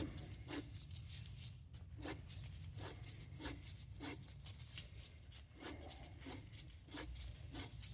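A used Fram oil filter's steel canister being cut open with a cutting tool, heard as a steady grinding rasp with repeated sharp scraping strokes roughly every half second, close and fairly loud, with no talking.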